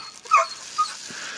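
A dog whimpers in a couple of brief, thin, high-pitched whines, close and fairly quiet, with near silence between them.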